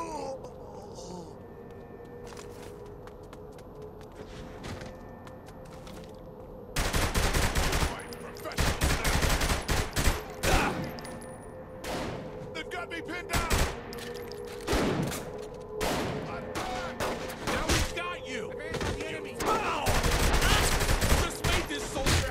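A chaotic gunfight in Saint's Row The Third Remastered, with dense bursts of automatic gunfire and single sharp shots crackling loud and close after a quieter stretch, mixed with faint voices.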